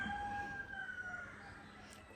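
A rooster crows in the distance, a long drawn-out call with faint background hum and no one talking.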